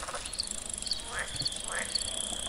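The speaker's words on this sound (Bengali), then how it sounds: "গাছে গাছে ঝিঝি পোকার অবিরাম ডাক, কোথাও জল জমে থাকা গর্ত থেকে ব্যাঙের গলা ফাটানো আওয়াজ" Steady cricket chirring fills the background among trees, with a high tonal band and repeated rising frog calls from water-filled pits, at a moderate distance.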